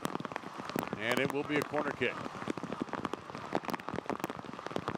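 Rain falls steadily on a soccer match between Bethlehem Steel FC and Richmond Kickers, a dense crackling patter of drops throughout while a commentator talks over it.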